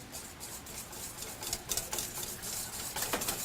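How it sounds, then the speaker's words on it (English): A whisk stirs a marinade mixture in a bowl for a pork chop, giving a steady close scraping and swishing with small clinks against the bowl, louder bursts midway and near the end. "We're gonna whisk that together"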